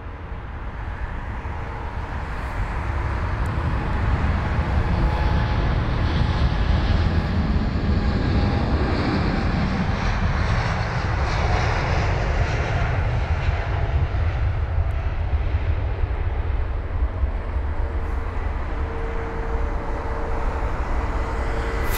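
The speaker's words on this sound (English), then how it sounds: "there's already another departure. And it's a Virgin Atlantic 787 once again." Virgin Atlantic Boeing 787-9 Dreamliner jet departing London Heathrow, a loud, sustained engine roar that swells and holds steady for the whole stretch, with no talk over it.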